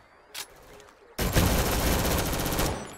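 Gunfire in the Rolling Thunder video game: a single shot, then a loud, dense, continuous burst of rapid automatic fire that lasts nearly two seconds, close and unbroken.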